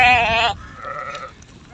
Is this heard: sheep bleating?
yes